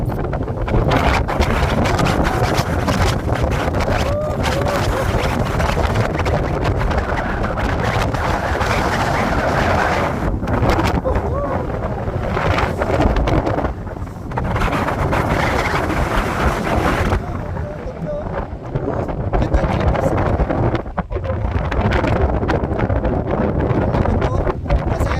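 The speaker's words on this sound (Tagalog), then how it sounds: "Ang lakas talaga ng hangin." Strong wind on Mount Olis in Atok, Benguet, Philippines buffets the microphone in a steady, loud roar for the whole stretch, with brief dips in the gusts and a voice faintly talking underneath.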